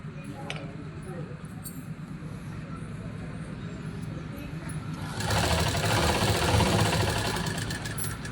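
Sewing machine stitching a saree petticoat runs as a steady mechanical whir and rattle, growing louder and busier partway through. Someone speaks over it.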